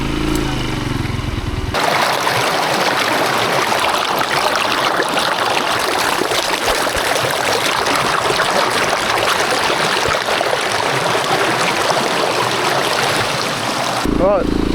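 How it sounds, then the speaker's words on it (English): A small river flows steadily, its broad continuous rush of water loud and close throughout, with a brief different sound at the start and end. "goodbye lovely little river"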